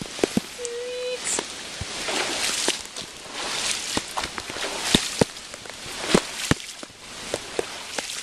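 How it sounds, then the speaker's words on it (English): Footsteps splash and slosh through a few inches of canal water in a flooded yard during Hurricane Irene in Virginia Beach, a steady run of close, irregular wet steps, with someone speaking briefly early on. "Probably canal water I'm walking in right now."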